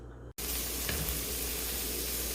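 Onions sizzle in a hot pan as they are stirred to soften for mussels in wine, a loud steady close frying hiss that starts abruptly after a brief silence.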